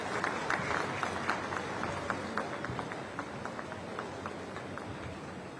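An audience at the inauguration of Kushinagar International Airport stands to applaud the Prime Minister, with dense, steady clapping that slowly fades over several seconds.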